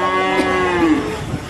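A cow at a crowded livestock market in Sragen, Central Java, lets out a single close, drawn-out moo with a clear tonal pitch over the surrounding market bustle.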